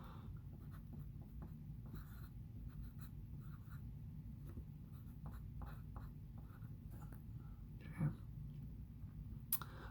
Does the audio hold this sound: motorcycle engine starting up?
no